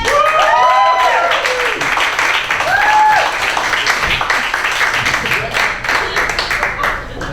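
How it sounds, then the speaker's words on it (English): A comedy-club audience claps and whoops for a stand-up comic coming on stage, with dense applause, a few whistles and cheers, and voices mixed in. "thank you for that thundering round of applause"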